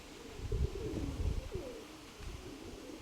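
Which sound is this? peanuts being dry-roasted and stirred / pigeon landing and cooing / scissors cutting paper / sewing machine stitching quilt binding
pigeon landing and cooing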